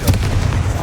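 Confringo blasting spell from Hogwarts Legacy going off, one sharp booming explosion at the start followed by a short rumbling tail, loud and close.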